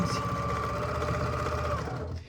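A sewing machine runs steadily, stitching the back-to-back layers of a pre-made quilt into a hanger cover. The motor's continuous hum stays loud and close throughout, then stops near the end.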